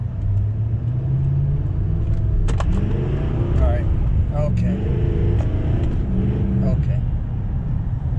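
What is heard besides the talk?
diesel pickup truck accelerating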